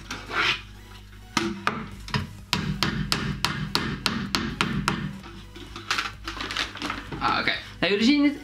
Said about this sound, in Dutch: Jullie zien het, ik heb hem hier met een hamer ingeslagen.